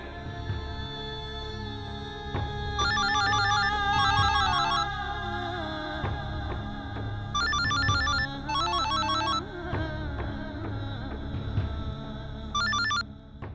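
A mobile phone ringtone rings unanswered in a Hindi TV drama scene, sounding in three bursts of bright repeating electronic tones over a steady background music score.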